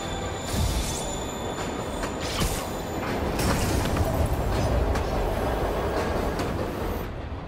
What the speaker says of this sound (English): Train moving. Lee's getting away.